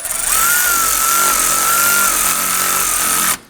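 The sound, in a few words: driving self-tapping screws into Nissan Murano AC condenser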